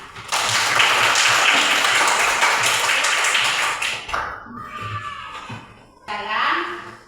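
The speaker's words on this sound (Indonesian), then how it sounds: "Ya, tepuk tangan." A classroom of children claps together in a dense burst of applause lasting about four seconds, then it fades into faint murmuring and a teacher's voice.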